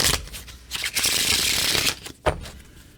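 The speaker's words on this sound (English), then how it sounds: "So I'm going to go ahead and shuffle." Cards being shuffled close up, a dense riffling flutter that swells and runs for about a second, then a few sharp snaps and taps as the deck settles.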